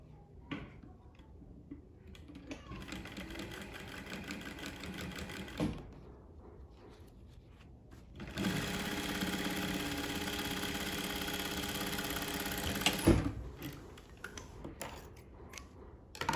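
A sewing machine stitches a single welt pocket in two close runs of rapid, steady mechanical ticking, separated by a short pause, with small handling clicks in between.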